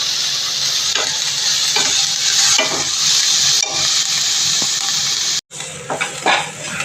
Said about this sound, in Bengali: সবজিগুলো ভাজা ভাজা হয়ে গেছে।